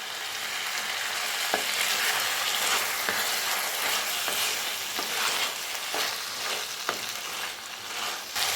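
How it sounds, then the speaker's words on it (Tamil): Chicken pieces fry in hot oil with turmeric and salt for chicken sukka, giving a steady close sizzle broken by occasional sharp knocks and scrapes as the pan is stirred. "இப்போ சிக்கன் வந்து இந்த எண்ணெயிலே வதங்கட்டும்"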